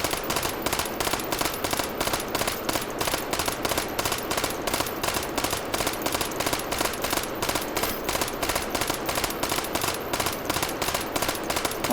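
Rapid three-round bursts from a rifle in the VR shooting game H3VR, a steady stream of sharp cracks repeating in tight regular clusters for the whole stretch, loud and close with no voices.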